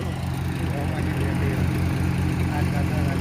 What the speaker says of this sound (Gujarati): અને પેલી બાજુ બતાવીએ, આપણું ટ્રેક્ટર છે પ્રીત